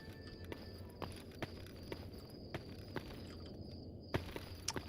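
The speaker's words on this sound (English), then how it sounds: "Heard his footsteps on metal." Faint, evenly spaced footsteps ring on metal in the STALKER Anomaly game, a steady run of light clanking steps over a low ambient hum.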